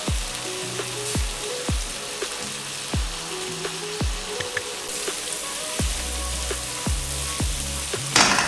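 Masala sizzles and fries steadily in hot oil in a pan for a dhaba-style egg do pyaza, with a continuous crackling bubble broken by repeated sharp clicks and knocks, close and without talk.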